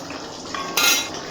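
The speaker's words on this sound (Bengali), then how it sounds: "খুব ভালো করে একটু নাড়াচাড়া করে নিচ্ছি।" Spoon clinking and scraping against a pot while boiled jackfruit and prawn curry is stirred, a brief metallic clatter swelling near the end of a short close-up moment.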